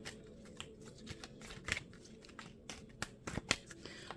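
Tarot cards being shuffled close up, a run of crisp riffling flutters and light taps over about four seconds, with no talking.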